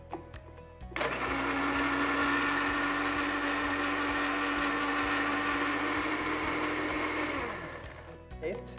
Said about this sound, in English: This is what now I will blend.